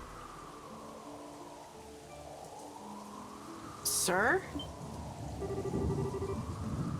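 Steady rain falling in the Trails in the Sky the 3rd role-playing game, a continuous soft hiss running under a voice and game music, with a brief sharp chime in the middle.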